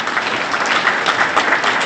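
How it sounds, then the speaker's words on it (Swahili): Loud, dense applause from a large audience at the launch of the Gran Melia hotel in Arusha, Tanzania, steady continuous clapping filling the hall close up. "Tupige makofi mengi sana"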